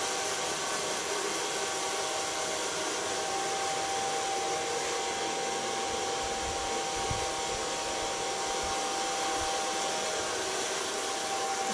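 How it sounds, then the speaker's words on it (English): A hair dryer runs as a steady, even blowing hum for the whole stretch while short hair is dried during a haircut, and no one talks over it. "Het is weer die mooie rustige föhn, hè?"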